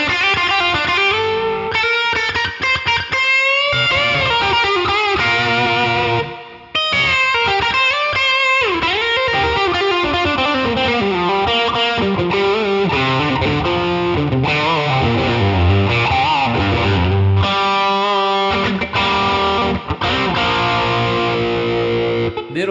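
Squier's cheapest Telecaster played as a high-gain electric guitar lead with reverb, loud and continuous sustained notes and bends with a brief gap near the seventh second, no talking.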